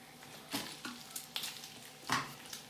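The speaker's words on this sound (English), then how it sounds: "we're just going to stir the onion, break it all up into the thin pieces" Onion stirred into a frying bacon mixture in a pan: a steady soft sizzle under a handful of scraping spoon strokes at uneven intervals, close and fairly quiet.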